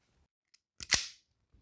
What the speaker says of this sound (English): The next thing I'm going to do is strip both ends of the LED wire that we cut to length.